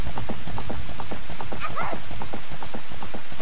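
Steady rain falls in the Zelda: Ocarina of Time video game, a constant hiss with a regular pattering rhythm that runs through the whole clip, with a brief higher tonal sweep in the middle.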